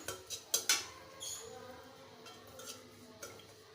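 A utensil stirs shrimp in a pan being dry-roasted for a Bengali shrimp bharta, with garlic added, making a few sharp metallic clinks and scrapes at first, then quieter irregular taps and scrapes, all faint and close.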